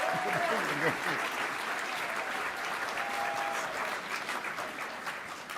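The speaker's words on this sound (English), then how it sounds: "Let's give them a round of applause." Steady applause from a large audience fills the whole stretch, dense clapping with a few faint voices and whoops mixed in.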